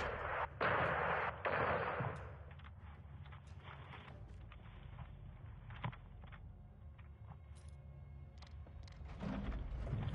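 A Lockheed AC-130 gunship fires rounds in Modern Warfare 2, heavy booming blasts that fade into distant rumbling, followed by sparse thuds and crackle over a low ambient bed.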